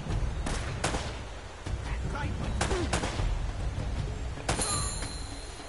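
Pistol shots ring out in Uncharted gameplay, a few sharp separate cracks spread over the stretch with game noise and a speaking voice in between.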